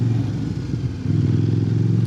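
A 2025 Kove 800X Pro motorcycle on a test ride, its close, steady low engine drone and wind rush continuing without a break under a brief dip in revs.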